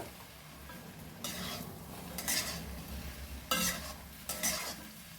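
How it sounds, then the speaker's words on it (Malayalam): Idli pieces stirred in a pan with a spoon, four distinct scraping strokes over a low background sizzle, close and quiet with no talk. "ഇതെല്ലാം കൂടെ ഇളക്കി ഒന്ന് യോജിപ്പിക്കണം."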